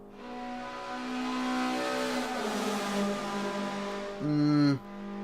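A Mazda race car roars through the Bernese tunnel at a race event, its engine note held and echoing before a sharp upshift or lift near the end, loud and close with no talking.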